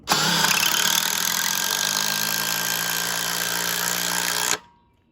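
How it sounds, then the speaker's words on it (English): A Black and Decker Matrix impact driver attachment whirs loudly and steadily for about four and a half seconds, driving a screw through a pre-drilled hole into wood, then cuts off abruptly. "I'll try to drill them in through this pre-drilled hole"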